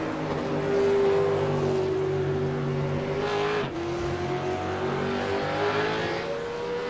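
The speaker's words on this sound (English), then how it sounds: "Game audio is a touch loud, so alright, turn the cars up" V8 race car engines in iRacing at Watkins Glen drone steadily at high revs, with a brief dip and pitch shift midway, loud and continuous with no voices.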